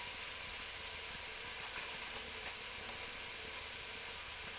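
Finely chopped celery and carrots hit a hot pan for a vegetable chilli and sizzle with a dense, steady hiss that runs evenly throughout, with no talking.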